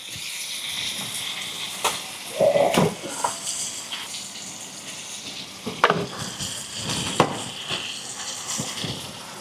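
Steak frying in a pan with butter and herbs, a steady close sizzle broken by louder spitting and scraping bursts as it is basted, with no talking.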